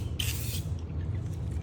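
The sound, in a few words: spray paint can spraying wheel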